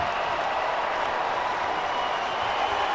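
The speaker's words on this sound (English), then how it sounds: "The roar of the crowd." Stadium crowd at a football game roaring and applauding as a runner breaks away, a loud, dense, continuous roar without gaps.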